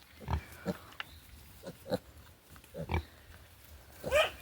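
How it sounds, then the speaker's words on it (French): Close snorts and grunts from a pig, several short bursts spaced irregularly with quiet gaps between. "C'est vraiment bourrin un cochon"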